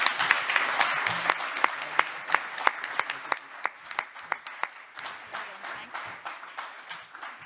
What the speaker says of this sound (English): if we could maybe give our speakers a round of applause